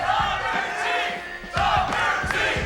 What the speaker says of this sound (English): The crowd wants Dr. T.